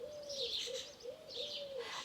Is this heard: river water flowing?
no